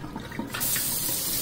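A kitchen faucet in an empty apartment turns on and runs in a steady, close rushing stream after a few faint handling sounds, with no talking.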